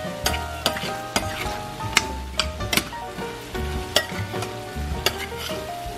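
Rice mixture with oyster sauce stirred in a hot frying pan for Arroz a la Cubana: steady sizzling with repeated scraping and clacking strokes of a utensil against the pan, close and loud, no voices.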